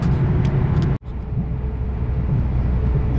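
A car travels along the A2 mountain motorway in the Italian Alps, its engine and tyre roar constant and close, with one momentary dropout before the drone resumes.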